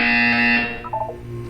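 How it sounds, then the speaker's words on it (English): A Portal 2 test-chamber buzzer sounds as a loud, steady electronic tone for about half a second, then fades into quieter warbling electronic chirps with no voices. "You will hear a buzzer."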